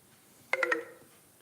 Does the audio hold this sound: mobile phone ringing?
yes